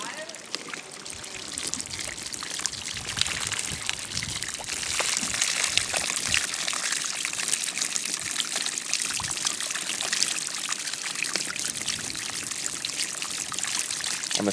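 Water pours continuously from an uncontrolled outflow near a lake in a dense, steady hiss and splash that never lets up.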